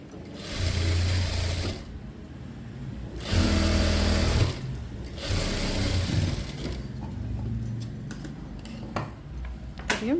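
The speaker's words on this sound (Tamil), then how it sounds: "இதை வச்சு ஸ்டிச் பண்ணிக்கலாம்." A sewing machine stitches a blouse in several loud running bursts separated by short pauses, its motor whirring with a steady ticking rhythm close up, with no talking.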